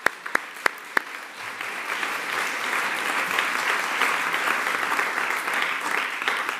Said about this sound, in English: If we all applaud, we're applauding everybody involved